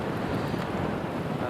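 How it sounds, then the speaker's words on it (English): Strong seaside wind at dawn with the tide in, roaring steadily and loudly into a Sony Handycam microphone, a dense continuous rumble with sea noise mixed in. "it's quite windy today actually"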